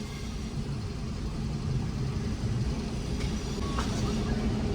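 A vehicle rolls along a badly broken road dug up for construction, with deep pits in the surface, giving a steady low rumble of engine and tyres that stays close and even throughout.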